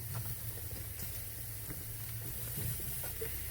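Vegetables laid face down on a grill above a plate of caramelizing salmon drippings give a steady sizzling hiss with small scattered crackles and pops, moderately quiet and without talking.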